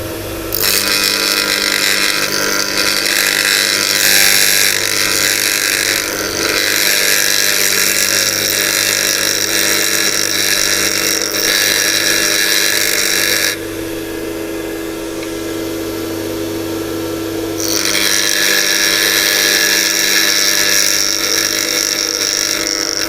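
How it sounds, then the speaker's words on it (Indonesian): A grinder shapes the face of a lathe cutting tool to a 12 to 16 degree angle, giving a loud, continuous abrasive roar up close that eases for a few seconds midway before returning at full strength. "Kemudian kita coba makan bagian sisi muka dari pahat ini sejauh 12 sampai 16 derajat."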